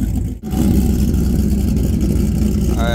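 A loud supercharged Ford Lightning pickup truck engine idles with a rough, choppy rumble, holding steady after a brief dip near the start.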